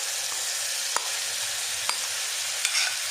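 Cumin seeds and soaked spices sizzle in hot ghee, a steady close hiss with a few sharp clinks of a spoon against the pan.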